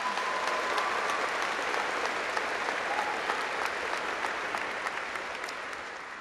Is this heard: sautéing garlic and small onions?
no